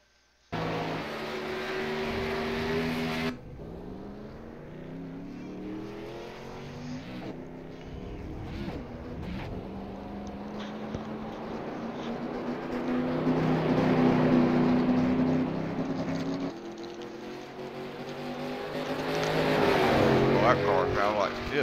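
A race car engine in the iRacing video game revs and drones steadily, pitch rising and falling as it accelerates and shifts, with a voice talking over it at times.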